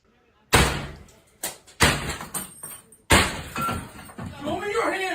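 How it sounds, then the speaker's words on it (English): A door being forced open with a battering ram: three heavy booming strikes and a lighter knock, each with a crashing ring-out, while voices speak over and between the blows. "They're banging the door open with a battering ram."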